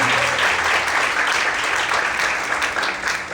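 Worshippers in a church clap joyfully in praise, a thick, steady wash of close applause lasting a few seconds with a faint low musical hum beneath.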